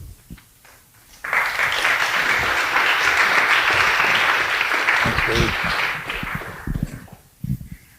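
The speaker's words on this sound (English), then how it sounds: "They're already clapping for you, Randy." An audience at an architecture lecture breaks into loud, sustained applause that swells after a brief quiet start and fades after about five seconds, followed by a voice and a few scattered claps.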